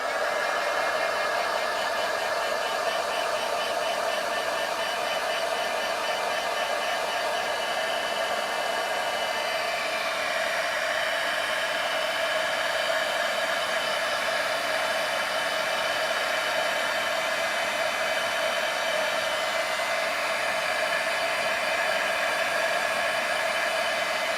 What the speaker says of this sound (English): You just turn your heat tool on again.